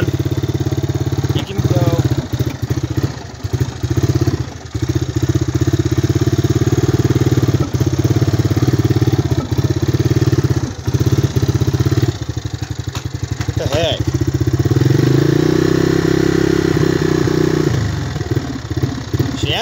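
A Honda Big Red engine idles unevenly in cold weather, close and steady but stumbling and surging as if starved of fuel, with clattery mechanical noise and occasional revs.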